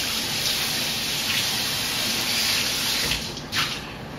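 Hot water runs from a tap into a serving bowl in a kitchen, a steady close splashing rush that holds evenly, with a brief burst of stronger splashing near the end.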